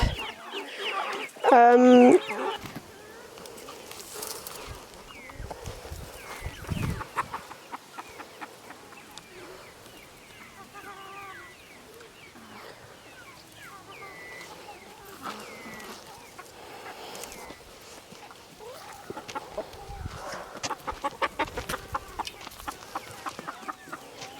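Chickens cluck in bursts close by, with a loud squawk near the start and softer clucking continuing throughout.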